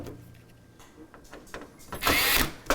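Screws being tightened on a PC build, heard as a brief, fairly loud whirring burst near the end of an otherwise quiet stretch with faint background noise.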